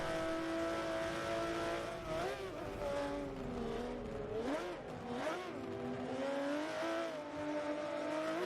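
Race cars roaring around the Mugello circuit in Forza Motorsport 7, with a steady, close engine drone and audible gear shifts and pitch swoops as the cars take turns; no speech.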